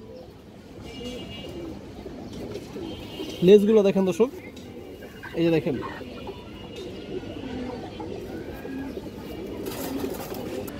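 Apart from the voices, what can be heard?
Indian pigeon cooing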